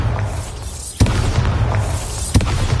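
Bombarda explosion spells in Hogwarts Legacy go off as two sharp, punchy blasts over a dense, rumbling combat backdrop, fairly loud and close.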